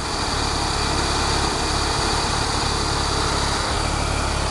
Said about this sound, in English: here's another engine video